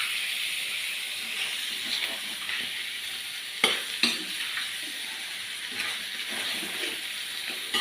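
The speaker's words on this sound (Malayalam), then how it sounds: "ഇളക്കുക." Curry cooks in a pan after coriander leaves are added, a soft steady sizzle and hiss with occasional spoon stirs and two louder clinks against the pan, close and without talk.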